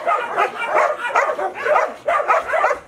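Dogs of mixed sizes at a dog farm in Nepal, including Labradors, barking and yipping repeatedly in loud, close bursts, some whimpering among the barks.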